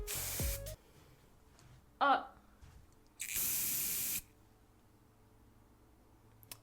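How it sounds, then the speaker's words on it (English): Aerosol can spraying blue hair dye onto natural hair, with two hissing bursts, a brief one and then a longer one about a second long, close and clear, plus a short voice sound between them. "As I continue to spray, the bottle is getting colder."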